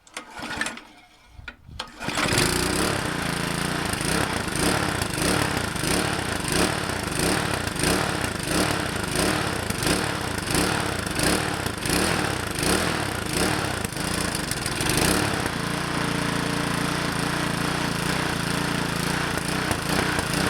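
A Murray 20-inch push mower's engine fires after a brief quiet start and runs loudly and steadily, with a rough, pulsing chug that keeps going to the end.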